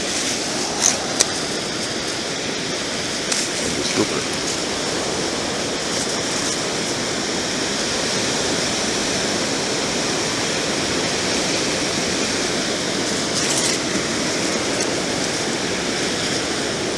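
Ocean surf on a beach washes in a steady, broad roar that holds for the whole stretch, with a few small clicks and knocks near the start.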